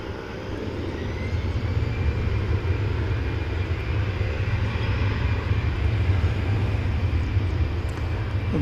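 An airplane rolling along the runway at DFW Airport, a steady low engine roar with broad rushing noise that swells in after the first second and holds loud and constant, heard from a distance with no talking.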